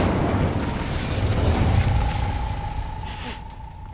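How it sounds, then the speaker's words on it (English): Incendio fire spell in Hogwarts Legacy, cast near a gate: a loud, rumbling fiery blast swelling and roaring for several seconds, with a faint ringing tone underneath, then cutting away sharply near the end. "Incendio!"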